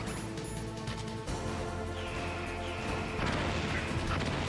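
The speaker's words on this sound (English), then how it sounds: "He's gonna shoot missiles in 1 second." Missiles explode in the Metal Gear Solid video game, a dense stretch of loud crashing blasts and rumbling booms, with a sharp new impact near the middle and another surge toward the end, continuous and close.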